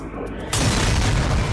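Sudden deep boom of a pressure explosion blowing the hatches off a cargo ship's hold, set off by gases from industrial alcohol; a quiet lull breaks into a loud, sustained low rumble that fills the rest of the moment.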